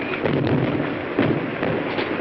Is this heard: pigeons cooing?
no